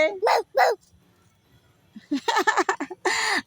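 A child imitates a dog with a couple of short barking sounds, then a rapid string of yips and a final longer bark-like cry.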